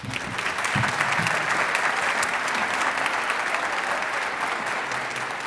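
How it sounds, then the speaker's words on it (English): Sustained audience clapping at a high school orchestra concert for a departing orchestra member, a broad even wash of applause with no talk over it. "You can clap"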